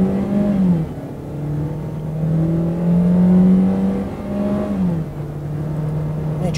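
A Citroën C4 Cactus Feel in sport mode accelerates flat out from a standing launch toward 100 km/h, its engine droning loudly up through the gears with audible dips at each shift, heard from inside the cabin.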